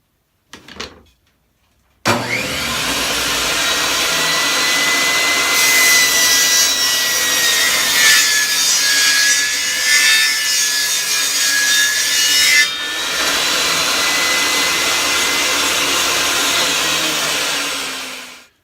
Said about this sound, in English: I'm going to start stripping these some pieces of lattice in half to make our border along the Snelgrove board